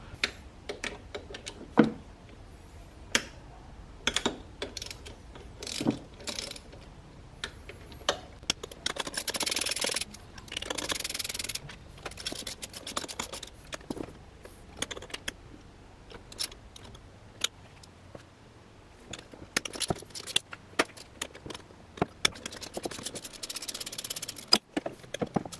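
Bolts are worked loose from the accelerator position sensor on a 1JZ VVTi engine, giving sparse metallic ticks, clicks and small clatters of tools and fasteners at irregular intervals against a quiet background, with no talking.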